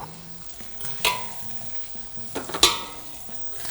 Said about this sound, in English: All we want to do here now is just brown the veal shanks on all sides.